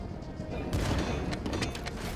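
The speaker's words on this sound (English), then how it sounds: "coming alongside with the cannons this time, not the prototype" Ship cannons fire in the naval video game Sea of Rifts, a dense rumbling volley of booms and cracks layered over constant loud background noise.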